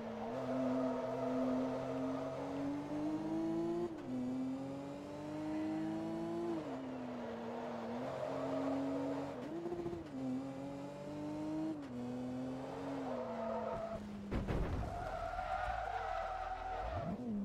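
A race car engine in the video game Forza Motorsport 2 whines continuously, its pitch rising and dropping through gear shifts, with a brief tire screech near the end.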